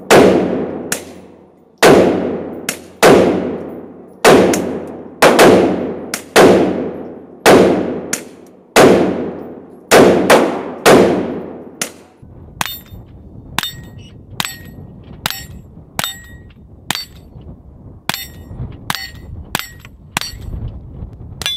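Rapid strings of .22 rimfire pistol shots from a Taurus TX22 and a Smith & Wesson M&P 22 Compact, first loud sharp cracks in a quick steady rhythm, then a run of quieter, snappier reports, likely suppressed, close by with no talking.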